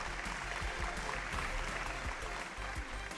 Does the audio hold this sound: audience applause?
yes